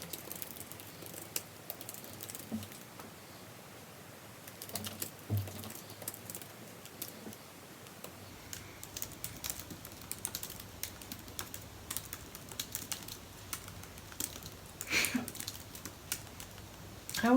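Typing on a computer keyboard during a writing sprint, steady quiet clatter of keystrokes in irregular bursts with small pauses, continuing for a long stretch in a quiet room.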